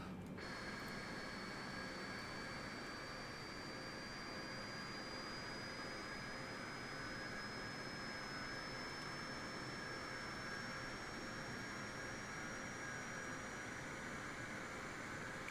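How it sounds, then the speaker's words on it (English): A Boeing 747-8i engine 2 spooling up during start in Microsoft Flight Simulator, a steady loud turbine roar and broadband rush with a slowly rising high whine throughout. "Engine 2 now starting up."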